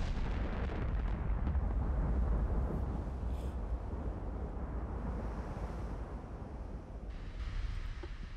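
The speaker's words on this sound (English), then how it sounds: "Those guns sound amazing." Quad-barrel battleship guns fire in the naval warfare game Ultimate Admiral Dreadnoughts, a sustained heavy rumbling roar of booming salvos that rolls on steadily for several seconds with no talk over it.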